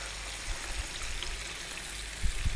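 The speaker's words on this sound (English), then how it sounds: "we're going to add some water to this." Water poured into a pot of beef stew in a home kitchen, a faint, steady trickling and splashing stream with a few soft knocks near the end.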